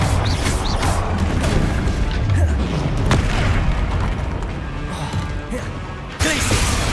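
Confringo, a blasting spell in Hogwarts Legacy, goes off in a run of heavy booms and crashing impacts with clattering debris. The noise stays loud and steady, then fades slightly before one final sharp hit. A voice is heard faintly at times.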